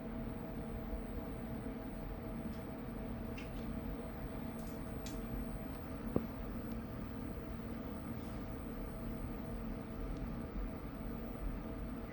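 A faint, steady microwave oven hum runs on solar battery power, with a tiny click partway through and no voices.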